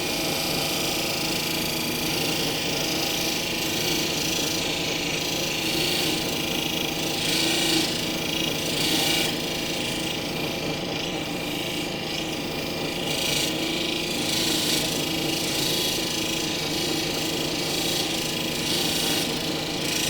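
A steady, even whirring and scraping of a flat lap grinding machine flattening a stromatolite cabochon runs continuously without pause, close by, with faint rhythmic rubbing texture.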